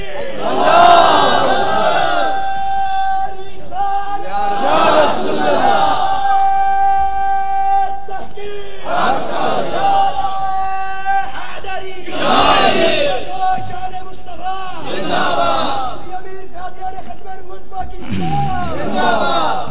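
Large crowd at a religious sermon chanting slogans in call-and-response, about five loud swelling shouts spaced every few seconds, with a preacher's amplified voice leading between them.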